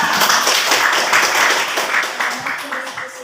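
A classroom of students claps for a few seconds in a lesson on aqiqah, the sound close and dense with steady hand claps and some voices mixed in.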